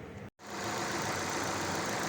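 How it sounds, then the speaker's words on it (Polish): An Opel car engine idles steadily during an engine flush, with a low, even hum after a brief cut of silence, fairly quiet and close. "ten silniczek się nam płucze, chodzi sobie na wolnych obrotach"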